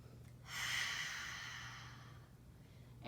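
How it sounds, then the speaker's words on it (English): Deep breathing during a kundalini yoga session: one long, slow, breathy inhale through the nose, close and soft, fading out before a short breath sound returns at the end. "Inhale."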